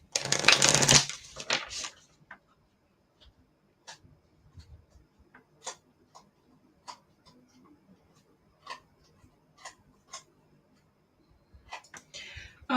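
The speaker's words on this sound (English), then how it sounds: "I lost track of how many times I shuffled." Oracle cards riffle in a brief burst of shuffling, followed by scattered soft taps and clicks as cards are handled and laid down, close and quiet.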